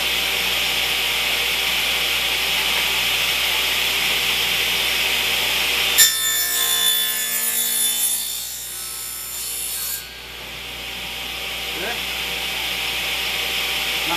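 A hand saw cuts notches into a wooden piece for a beehive robber screen, giving a steady back-and-forth rasping burst of strokes that starts abruptly and runs for a few seconds before stopping, close and fairly loud over a constant background hum.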